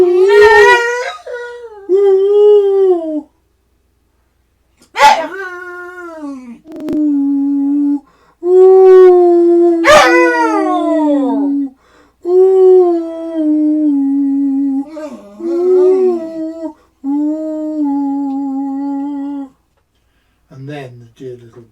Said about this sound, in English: the best analogue of a howl that he's done